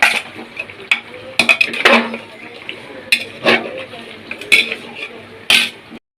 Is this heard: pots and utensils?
yes